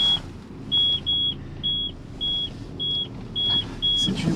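A 2002 Renault Avantime's reverse parking sensor gives a regular series of short, clear electronic beeps, about eight in a row, over a low engine rumble inside the car.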